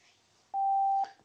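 A Phicomm EX780L selfie robot beeps while pairing over Bluetooth, giving one clean, steady electronic tone lasting about half a second against a quiet room.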